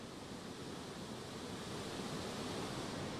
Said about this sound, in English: Listen to the sound of the creek.